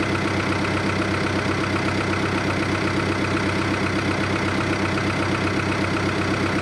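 A tractor engine runs steadily at a constant loud idle while driving a homemade hydraulic wood splitter, a continuous drone with no pauses and no voices.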